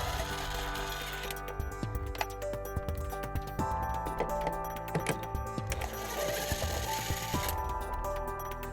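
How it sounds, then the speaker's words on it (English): A 10mm socket ratchet backs out the taillight bolts on a 2008 Toyota Sienna minivan, giving a steady run of quick, light mechanical clicks close to the microphone, with no talking. "Each taillight is held in by 2 bolts. And we're going to remove those using a 10mm socket."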